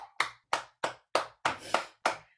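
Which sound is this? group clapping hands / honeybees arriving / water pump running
group clapping hands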